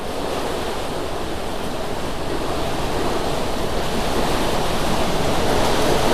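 Water rushes loudly and steadily through a single opened sluice gate of a three-gate river structure, a continuous broadband roar with no pauses and no voices.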